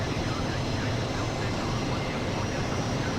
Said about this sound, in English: flying this big giant C17 Globemaster